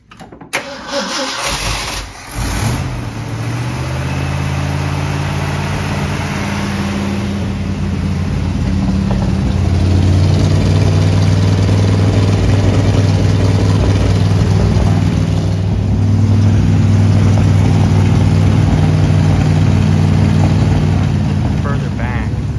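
A barn-find Ford F100 with a glass pack exhaust cranks and catches, then settles into a loud, steady, throaty idle with a deep rumbling drone, and voices talk over it.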